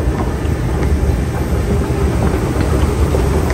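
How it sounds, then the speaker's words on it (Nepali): A Dubai Metro train pulls into a station with a loud, steady low rumble and hum that carries on throughout, with no voices. "मेट्रो स्टेसन छ मेट्रो नै आइहाल्छ ठ्याक्कै मेट्रो नै आइपुग्छ"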